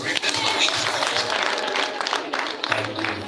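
A crowd at a primary school claps steadily throughout, a dense wash of applause with voices and cheering mixed in underneath.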